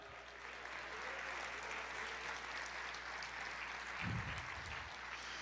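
Congregation applauding during a church service, a steady wash of clapping from many hands filling the room, with a brief low thump near the end.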